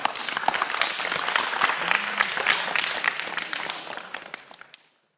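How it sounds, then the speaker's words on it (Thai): A school audience applauds a third-year lower-secondary student, dense clapping from many hands filling the room and then tapering away into silence at the end. "ขอเสียงปรบมือให้เพื่อนหน่อยครับ"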